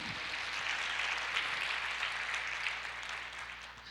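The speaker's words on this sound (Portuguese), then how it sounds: "Você pode aplaudir o Senhor?" A church congregation applauding during a sermon, a dense continuous wash of many hands clapping at steady volume for the whole four seconds, with no speech over it.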